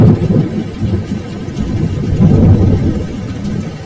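Heavy rain pours steadily with deep rumbling thunder, a loud continuous wash of sound with no voices.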